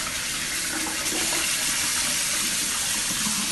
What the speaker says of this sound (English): Now we can apply a hot water.